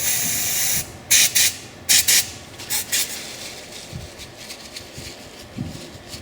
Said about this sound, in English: give the whole thing a quick blast with the brake cleaner